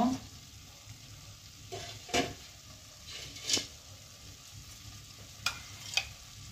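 Ghee being stirred into thick gajar ka halwa in a pan, soft quiet scraping and gentle sizzle with several sharp spoon knocks against the pan at intervals.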